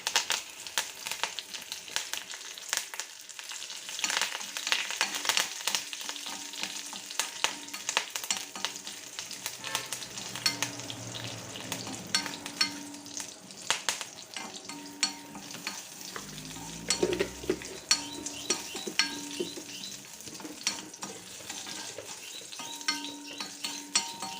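Curry leaves fry in hot oil as a tempering for Kerala mango pulissery, a dense continuous sizzle and spatter with occasional clinks of a spoon against the pan.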